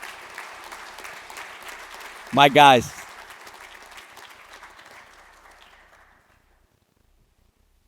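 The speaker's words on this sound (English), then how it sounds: "So I want to give a round of applause." Audience applause at a youth sports volunteer recognition ceremony, a steady clapping crowd that fades out over several seconds, briefly interrupted by a loud short spoken exclamation near the middle.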